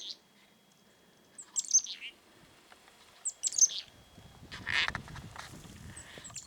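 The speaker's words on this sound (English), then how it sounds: "There are always chickadees on this side." Chickadees calling outdoors, two short bursts of high, bright chirps a couple of seconds apart, followed by faint rustling and low scuffing noises nearby.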